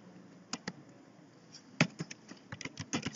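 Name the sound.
typing on a computer keyboard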